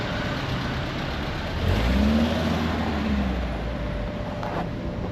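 Car engine in the DayZ video game, a steady mid-pitched drone that swells into a louder rev midway before settling back to a constant hum, with no talking.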